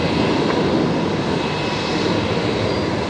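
A Virgin Australia Boeing 737 jet at an airport produces a steady, loud, broadband engine roar that holds evenly throughout, close by and with no voices.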